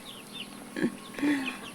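Chickens cluck twice in short, soft calls close by while being fed coconut worms, with a faint hiss of outdoor background between the calls.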